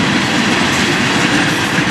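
A long string of loaded freight cars carrying ground asphalt rolls past nearby, a steady heavy rumble with rhythmic wheel clatter and no voices.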